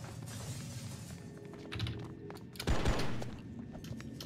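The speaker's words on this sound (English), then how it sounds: "So we're gonna just shoot out this window here." Glass shattering as a window is shot out in the video game Oni, a burst of gunfire and breaking glass near the end, preceded by quieter game ambience.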